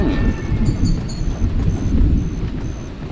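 A thunderstorm with heavy rumbling thunder and steady rain, dense and loud throughout with no voices.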